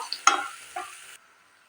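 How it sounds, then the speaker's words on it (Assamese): A brief burst of hot-pan sizzling with a couple of clanks from a utensil, then it cuts to near silence. "এইখিনিও মই ভালদৰে ভাজি লওঁ।"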